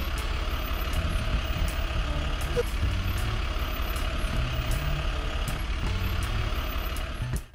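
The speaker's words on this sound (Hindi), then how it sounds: "अगले दिन लोड लेकर इलेक्ट्रिकल ट्रक शहर की ओर जाने लगा।" An electric truck drives toward the city carrying a load, a steady low rumble of rolling motion with faint repeating high clicks or beeps above it, holding even throughout and then cutting off at the end.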